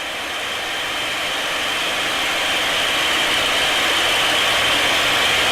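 TF-51 Mustang aircraft engine in flight with the throttle eased back, a steady broad roar that gradually grows a little louder, continuous and close with no voices.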